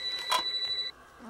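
A telephone in the horror movie Scream rings with a bright electronic trill, one ring lasting almost a second, loud and clear over quiet background.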